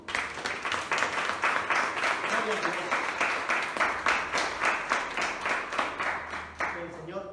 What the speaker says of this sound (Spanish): Le damos un aplauso al pastor.